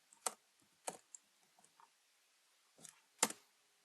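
Computer keyboard typing comes in a few sharp, isolated key clicks spaced irregularly, close and fairly quiet against near silence.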